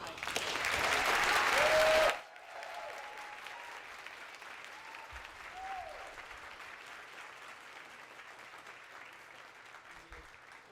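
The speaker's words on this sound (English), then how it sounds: "give a round of applause for the President and First Lady of the United States" An audience applauds the President and First Lady of the United States at a Virginia event, a loud burst of crowd clapping that cuts off abruptly and gives way to a quieter room with a speaking voice.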